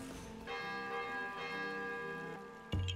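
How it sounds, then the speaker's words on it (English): A bell rings in Zelda: Tears of the Kingdom, its rich, sustained metallic tone struck a few times and left to resonate, with a louder thump at the end. "Oh, you can ring the bell."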